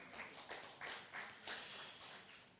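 Audience applause for a speaker at a hybrid multi-stakeholder dialogue, a steady wash of clapping with a few louder swells, moderately near and without talk.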